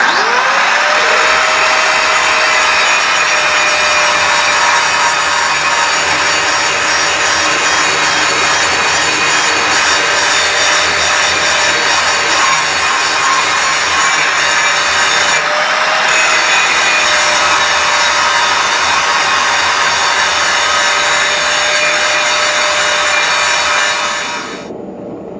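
A 4.5-inch angle grinder works steel on a Bowie knife, a loud continuous high-pitched whine with a steady motor tone that holds for about 24 seconds before cutting off at the end.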